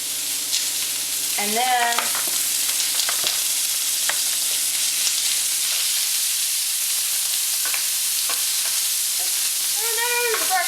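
Stir fry sizzles in hot oil in a pan, a steady close frying hiss with scraping stirring noises throughout, while a person briefly speaks.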